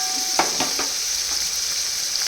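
Chopped beans, carrot and cauliflower pieces drop into a hot pan, a few quick rattling thuds followed by an even steady sizzle.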